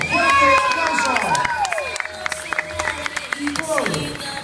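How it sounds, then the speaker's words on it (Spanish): Awards-show crowd at a music awards ceremony in Ecuador cheering and clapping loudly for a winner, with shouts and whoops over dense applause, while music and voices carry on through it. "¡Fuerte aplauso!"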